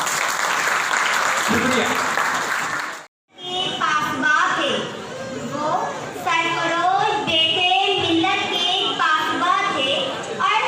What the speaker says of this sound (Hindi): मैं आप सबके लिए तालियां बजाता हूँ।